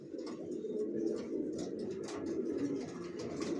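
A pair of young white grizzle racer pigeons with leg tags coo softly and continuously, a low burbling murmur close by under faint background hiss.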